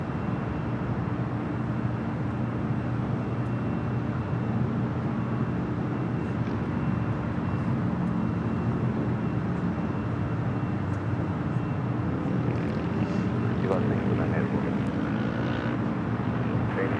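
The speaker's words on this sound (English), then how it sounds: "That's Eva Air Cargo 629 heading off to San Francisco on a Boeing 777 freighter." An Eva Air Cargo Boeing 777 freighter departing LAX, a continuous broad engine roar with a rising whine building near the end, steady and fairly strong throughout.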